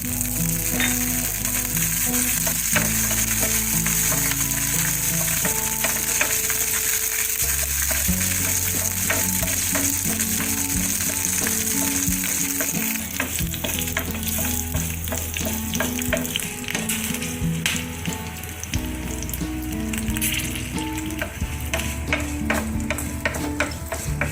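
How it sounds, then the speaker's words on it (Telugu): Green chillies sizzle steadily in hot oil in a pan for a Telugu capsicum and ridge gourd peel chutney, a continuous loud frying hiss with stirring clatter throughout and no voices. "లైట్గా ఇవి వేగుతుండగానే ఇందులో పచ్చిమిర్చి వేసుకోవాలి."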